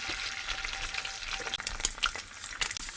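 An egg frying in oil in a pan gives a steady close hiss of fine crackles and light spatters. No one talks over it.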